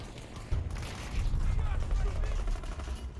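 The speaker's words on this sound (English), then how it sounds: "It spawned me in front of players currently shooting me." Battlefield 2042 gunfire: dense, continuous shooting from nearby players begins abruptly after a short lull and carries on as a loud, rolling barrage.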